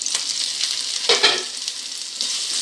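Grated coconut and green chilies sauté in a pan, giving a bright, continuous sizzle with a louder stirring scrape near the middle.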